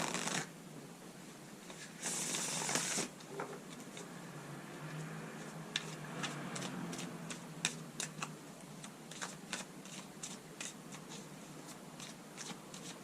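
Tarot cards being shuffled close by in a quiet room, with a dense burst of riffling early on followed by softer scattered flicks and taps of cards being laid out.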